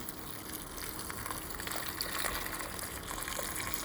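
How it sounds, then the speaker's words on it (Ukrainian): Boiling water poured from a kettle over dried apples in a pot makes a soft, steady gush and trickle, fairly faint and continuous, with no voices. "Гарно промила сушені яблука сухі і заливаю їх кипятком."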